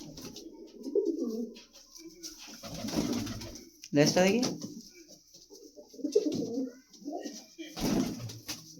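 Pigeons in a loft cooing in low, throaty bursts, close by, with someone talking intermittently among the calls.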